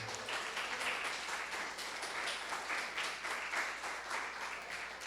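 A church congregation claps during a family service, a fairly quiet but continuous patter of many hands heard from a distance, steady throughout with little else over it.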